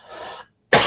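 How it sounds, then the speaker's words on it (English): A single throat-clearing cough, loud and close, follows a short breathy lead-in and a brief silence. "I'm going to mute myself and cough."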